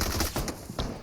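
A quick cluster of gunshots sounds in the BGMI mobile battle royale game, sharp bursts close together over about a second, with no talking.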